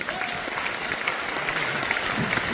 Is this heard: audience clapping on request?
yes